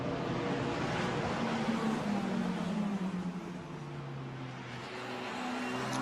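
A Formula Renault Eurocup race car engine roars uphill at a semi-wet Spa-Francorchamps, a steady droning whine that shifts slightly in pitch as it climbs, heard at a distance with no talk.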